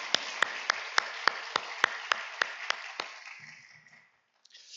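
A church congregation during a Sunday morning worship service claps hands in unison, about a dozen sharp, evenly spaced claps in a steady rhythm that then stop, followed by faint murmuring.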